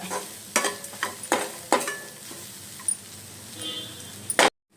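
Grated coconut, green chilli and turmeric fry in oil for chitranna, a soft sizzle broken by several sharp scraping stirs of a spoon in the pan, close by.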